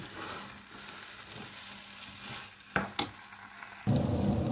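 Rice mixture with pandan leaves being stirred in a pan over low heat, a soft steady sizzle with a few sharp utensil knocks near the end, then louder scraping.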